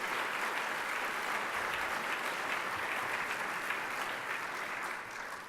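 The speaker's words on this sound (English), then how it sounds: "Round of applause for all of them." Steady, sustained applause from a banquet audience honoring former chamber of commerce board chairs and members, a dense even clapping wash that holds throughout and eases slightly at the end.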